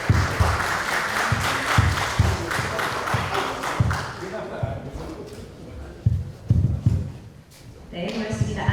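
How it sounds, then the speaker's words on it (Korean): Audience applause at the launch ceremony of the Gyeongsangbuk-do immigration policy committee, after a commissioning certificate is handed over. Clapping runs in loose bursts with thumping beats, fading in the middle and swelling again near the end. "큰 박수 부탁드립니다."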